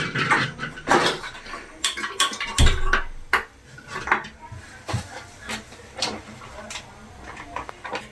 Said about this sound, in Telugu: ఫస్ట్ మనం పెనుగు పెట్టుకొని స్టవ్ ఆన్ చేద్దాం.